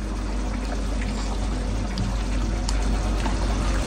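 Half-cooked biryani rice, drained of its water, poured into a pot of masala, a steady close rushing pour running for about four seconds with no talk.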